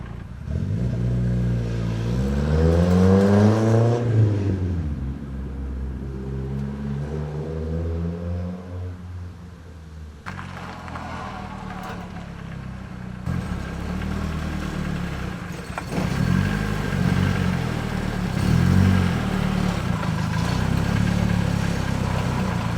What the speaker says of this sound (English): I'm gonna just do a little spin around the block, see if I'm rubbing